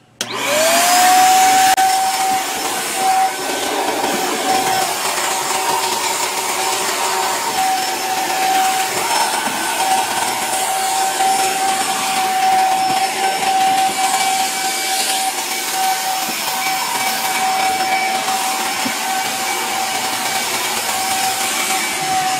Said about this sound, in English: Let's vacuum.